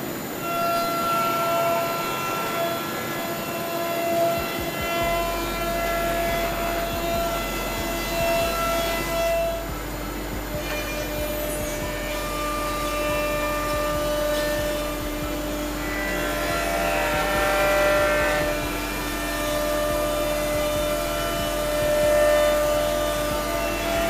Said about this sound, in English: You can see the router,